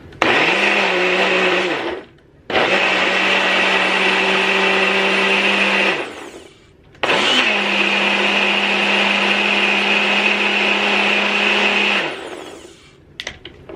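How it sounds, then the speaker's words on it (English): A Ninja blender whirs loudly in three long bursts blending an aloe vera and avocado hair mask, pausing briefly between them, its motor pitch dipping as each run starts and stops. "as you can hear, it should be all blended"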